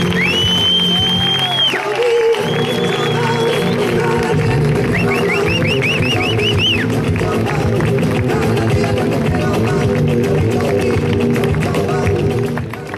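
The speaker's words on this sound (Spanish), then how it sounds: "Así que vamos a darle un fortísimo aplauso, ¿dónde está? Por ahí, a Joserra Garens." Sustained, loud audience applause with scattered whoops and cheers fills a Spanish stand-up comedy contest venue as a monologue finalist is welcomed to the stage, the clapping steady from start to finish.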